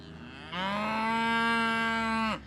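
A single cow in a cattle herd lets out a long, sustained moo lasting nearly two seconds, loud and close, with a steady tone that drops off sharply at the end over faint outdoor background.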